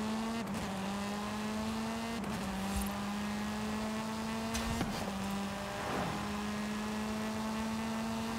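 An electric car in Forza Horizon 5 accelerates with a smooth rising motor whine that repeatedly climbs and drops back, alongside road and tire noise, no talking.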